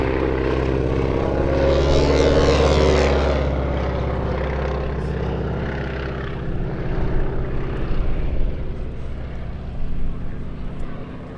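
Stearman biplane flying slow and low past the crowd at an airshow with a wing walker on top, its radial-engine propeller drone loud and steady, swelling and then fading slightly as it passes left to right.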